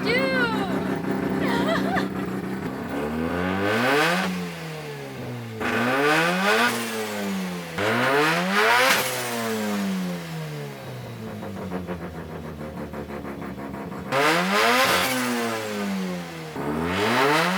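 A bridgeported rotary engine in a Mazda RX-7 drift car revs hard again and again, each loud, close blip climbing and falling away with a raspy buzz.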